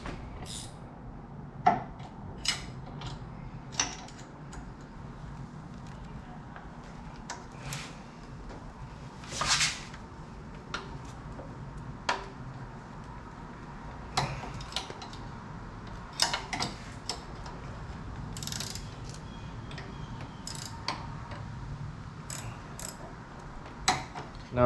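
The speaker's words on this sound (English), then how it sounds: "There's a pulley bolt right down here, which is the one I'm gonna loosen up first." A wrench loosens a 14 mm alternator pulley bolt on a Toyota Camry, Corolla or sixth-generation Celica, giving faint, scattered ratcheting clicks and small metallic ticks spread over a long, quiet stretch.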